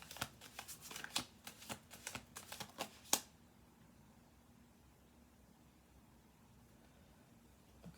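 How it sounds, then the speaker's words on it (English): A quick run of crisp, rapid riffling clicks from cards being shuffled up close, ending after about three seconds into faint quiet. "just going to do one more shuffle through."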